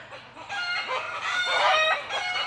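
Pet chickens or roosters crow and cluck loudly and continuously indoors nearby, one drawn-out crow rising over steady clucking.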